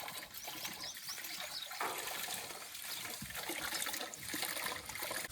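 Steady rushing and splashing of motor-pumped water pouring into a trough, continuous and fairly close, with no voices.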